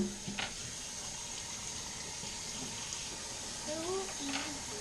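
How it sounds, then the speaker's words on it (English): A steady broadband wash of running water filling a gas can, continuous and fairly close, with brief bits of faint speech. "just want to run some water in there, really."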